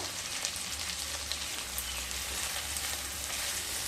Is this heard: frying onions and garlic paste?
yes